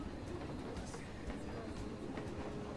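A train rolls past in the Planet Coaster park-building game, a steady rumbling clatter with rhythmic clicks, heard alone at a moderate distance.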